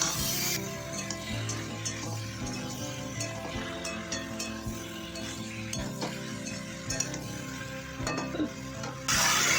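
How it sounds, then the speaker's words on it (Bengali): Ginger and tomato sautéing in a pan make a continuous sizzle layered with light clinks and scrapes of a stirring spoon, close and steady, with no talking. "আদা আর টমেটো দিয়ে একটুখানি কষে নিচ্ছি"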